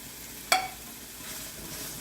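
Capsicum sautés in a pan for Indo-Chinese chilli paneer, a soft steady sizzle broken by one sharp metallic clink of a utensil against the pan.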